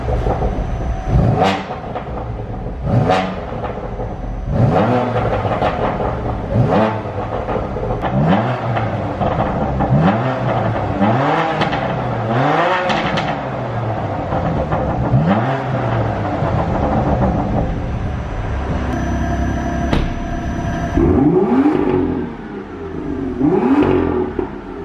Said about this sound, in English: But yeah, we'll get some revs going.